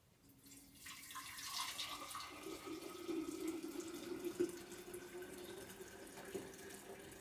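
Tea pours in a steady, quiet trickle into a jar, its tone shifting gradually as the container fills.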